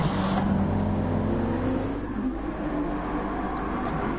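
Lexus and Porsche race cars in a racing video game endurance race at the Nürburgring GP circuit, a continuous engine drone with shifting pitch as the cars pass and accelerate, steady and fairly loud with no voices.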